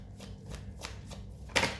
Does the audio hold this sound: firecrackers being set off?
no